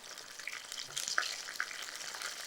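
Cumin seeds with curry leaves and dried red chillies crackle softly in oil over a low flame, a faint close sizzle with a few small pops, no voices.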